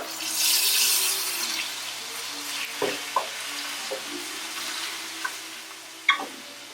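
Ground beef of a Penny Bun blend frying in a pan for stuffed peppers, a moderate steady sizzle with a few spatula scrapes and taps, close by and without talk.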